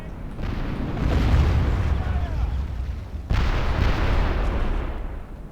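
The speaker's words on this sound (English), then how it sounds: "Following these cannonballs. Where are they going to land?" Cannon artillery from a Medieval 2 battle on plowed fields booms out in two heavy rumbling salvos, the second one starting sharply midway, each rolling on with a long sustained roar.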